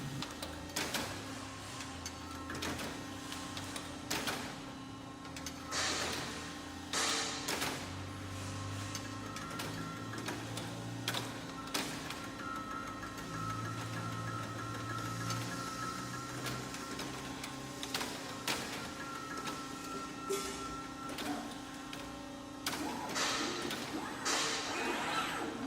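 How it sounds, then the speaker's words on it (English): A robotic riser make-and-break system torques a riser bolt with high torque, producing a steady mechanical whir and hum punctuated by repeated sharp clicks and clanks at irregular intervals. "As this last bolt here is being torqued,"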